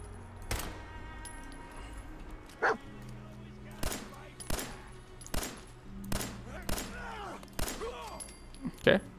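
Shots from a gun fired at an enemy in Fallout 4, sharp separate cracks arriving irregularly every second or so, fairly close and loud against a steady game background.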